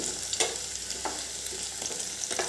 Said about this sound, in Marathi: हे खरपूस असं भाजून घ्यायचं आहे